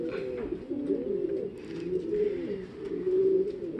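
Several racing pigeons coo and call continuously in a loft on loading day, overlapping low burbling calls filling the space at moderate, steady volume with no talk.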